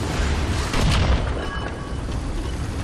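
A tank cannon fires in War Thunder ground battle, one heavy boom near the start of the second, followed by a rumbling tail and engine drone, with no voice over it.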